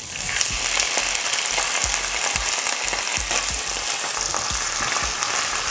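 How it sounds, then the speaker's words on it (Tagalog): Mushrooms fry in butter in a pan, a steady, close sizzle with scattered pops and crackles running throughout, no voices. "Niluluto ko lang yung mushroom dito sa butter ng 1 minuto"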